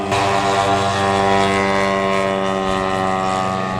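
A steady droning propeller engine of a model Sopwith Pup, a British World War I biplane, passes overhead at a model air show, loud and continuous, with a buzzing, even tone throughout.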